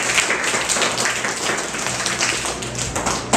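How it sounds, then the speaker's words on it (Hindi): Young children at a Children's Day gathering clap for themselves, with a dense, steady round of applause filling the whole moment at close range. "चलो बढ़िया, आपने लिए ताली बजा दो।"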